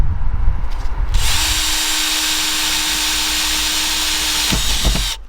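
A power drill whines steadily while boring pilot holes through the metal roof of a Mercedes Sprinter van for a MaxxFan install, starting after a brief scrape, running loud and constant, then stopping abruptly.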